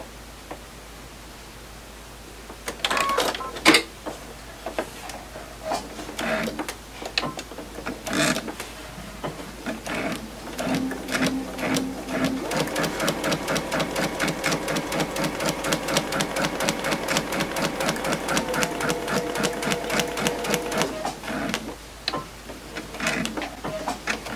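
A sewing machine stitches quarter-inch seams on small quilt pieces for triangle geese blocks, first in short starts, then in a long steady run of rapid close needle clatter with no talk.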